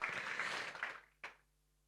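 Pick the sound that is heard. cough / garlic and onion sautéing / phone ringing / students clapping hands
students clapping hands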